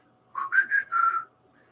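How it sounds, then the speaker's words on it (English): One person whistles a short, clear phrase of three or four notes, close and alone, lasting about a second. "Okay, whistle."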